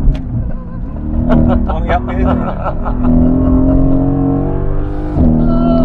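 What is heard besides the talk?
Mercedes AMG GT S engine on race track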